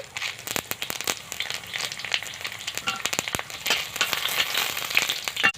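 Dried red chilies and bay leaves crackle and sizzle in hot oil that has caramelised sugar in it, a busy, steady frying hiss with sharp pops throughout, close and fairly loud.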